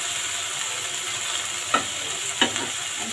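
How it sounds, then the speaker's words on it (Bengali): Onion and chopped ginger sizzle steadily in a frying pan while a utensil scrapes through them in two distinct stirring strokes, close up with no talking. "আমি এখন এর মধ্যে আদা কুচিগুলো দিয়ে দিচ্ছি। খুব ভালো করে নাড়াচাড়া করে নেব।"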